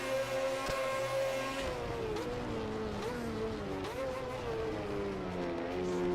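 Kawasaki motorcycle engine in a racing video game, a continuous high-pitched whine that rises and falls with gear changes and throttle, steady and close throughout.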